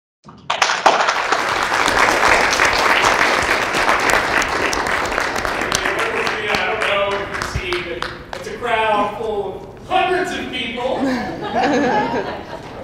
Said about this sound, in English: clapping and smiling.